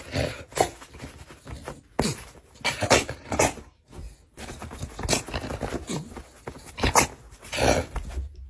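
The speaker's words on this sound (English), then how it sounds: "What the dog doing?" A dog whimpers and yips in short irregular bursts, fairly close, with scuffling and handling noises between the cries.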